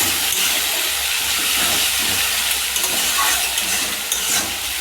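Chilli chicken being stirred in a hot pan after Pisan ketchup and green chilli sauce go in, giving a loud, steady sizzle and frying hiss throughout with faint scraping of stirring.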